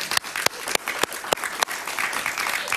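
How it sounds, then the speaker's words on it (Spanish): Studio audience applause on a late-night talk show welcoming a guest, dense steady clapping with a few sharp louder claps standing out, fairly close and alone without talk. "Un aplauso para Angelito."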